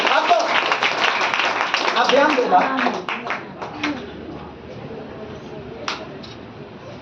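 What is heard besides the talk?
congregation clapping loudly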